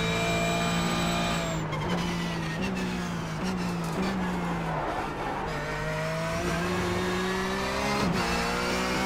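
Porsche 911 GT3 Cup racing car at Donington in iRacing, its engine loud and close, climbing through the revs in repeated surges between quick gear changes, with a brief whine and tire scrub in places.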